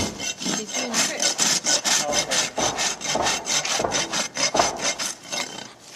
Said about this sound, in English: there's that rasping work